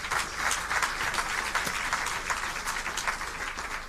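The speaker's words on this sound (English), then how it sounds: "please allow us to give a warm round of applause to the panelists" An audience at a conference on mobilizing finance for private sector development in Africa gives the panelists a warm round of applause, an even wash of many hands clapping at moderate distance, with no talk over it.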